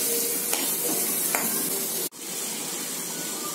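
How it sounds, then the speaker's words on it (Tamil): Onions sautéing in hot oil until golden brown for a drumstick curry, a close, continuous sizzle with a few faint stirring clicks and a short dip near the end. "இதை வதக்கிக்கலாம். கோல்டன் ப்ரௌன் ஆகணுங்க வெங்காயம்."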